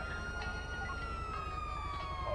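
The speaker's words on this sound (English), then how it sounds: "Let's also turn on our sirens." Police car sirens wail steadily at night in the video game GTA 5, a continuous sweeping electronic tone layered over a low constant engine hum, fairly quiet and with no talk.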